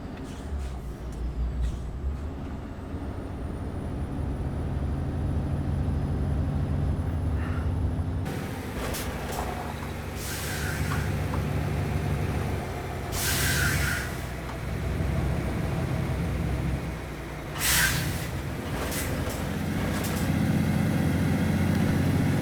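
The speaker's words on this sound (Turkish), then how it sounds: "İşte bu ses arkadaşlar tam Amerikan kamyonu" Volvo VNL truck engine in American Truck Simulator, a low steady idle-like drone that shifts in tone partway through, with intermittent brief bursts over the continuous rumble and no talk.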